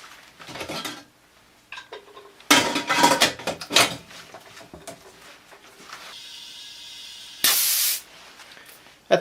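A dental lab pressure pot gives a short, loud burst of hissing air near the end, after assorted clinks and clatter of metal parts and lid handling in a quiet room.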